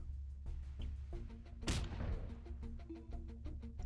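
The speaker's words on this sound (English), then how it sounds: "Shoot the guy with the gun." Gunfire in the video game Marauder: a rapid run of sharp shots under dense battle noise, with one heavy, close blast standing out in the middle.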